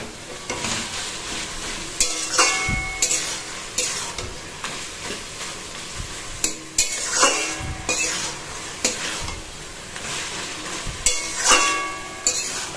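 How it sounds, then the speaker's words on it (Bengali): Taro leaves cooking with a hilsa fish head fry in a pan, giving a steady sizzle with repeated scraping stirs and clinks of utensil on metal, close and alone with no talk. "এটা আরেকটু ভাজা ভাজা হবে,"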